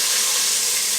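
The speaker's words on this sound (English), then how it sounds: "I'm going to go ahead and add about half of the load of the potatoes." A batch of potatoes lowered into oil heated to 400 degrees gives off a loud, steady sizzling hiss up close, with no talk.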